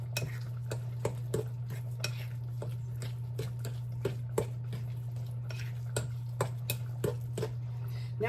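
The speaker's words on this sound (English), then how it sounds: "I'm just giving it a quick mix so you guys know I'm actually mixing cornbread mix" Cornbread mix stirred by hand in a bowl gives a regular rhythm of scraping taps of the utensil against the bowl, close and moderately loud over a steady low kitchen hum.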